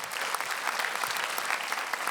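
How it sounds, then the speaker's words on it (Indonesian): Applause from a comedy show audience during a stand-up set on SUCI 6, fairly soft but continuous crowd clapping with no voices. "Boleh tepuk tangan untuk ibu saya."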